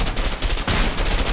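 Gunfire in the co-op video game A Way Out, a rapid run of loud, close shots with a brief break partway through before another sustained burst.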